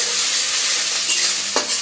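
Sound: onion frying in oil

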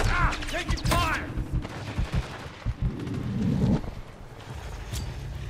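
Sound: gunfire in Call of Duty multiplayer video game

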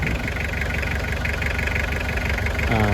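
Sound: Toyota 2L diesel van engine making loud abnormal knocking noise

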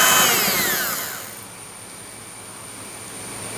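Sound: electric beater briefly mixing carrot cake batter

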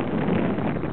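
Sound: wind

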